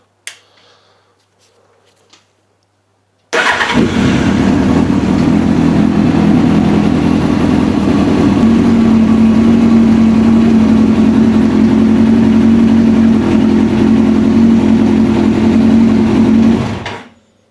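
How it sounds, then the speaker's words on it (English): A Yamaha R1 sport motorcycle with a suspected fault starts with an abrupt roar after a few quiet seconds. It settles into a loud, steady, buzzing idle up close, then cuts off near the end. "So I'll just start the bike and show you what it does."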